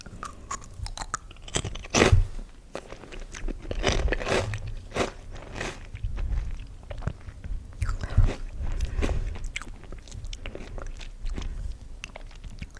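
Crunchy spicy snack being eaten close to the microphone, with repeated loud bites and crackling chewing in an irregular rhythm, soft and intimate, with no talking.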